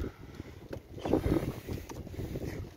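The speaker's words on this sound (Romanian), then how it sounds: "vântul accentuează frigul." Steady gusting cold winter wind rushes and buffets close to the microphone for a few seconds, with no voices, beside beehives.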